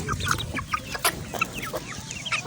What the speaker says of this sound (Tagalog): Ako mga alagang mga manok.